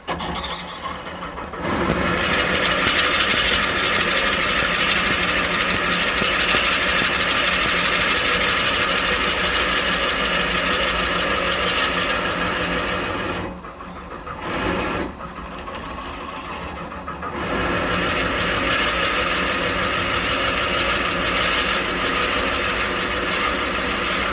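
Bandsaw cutting lengthwise through a piece of wood for a coffee scoop: a loud, continuous whining roar from close by that dips briefly twice, then resumes at full strength.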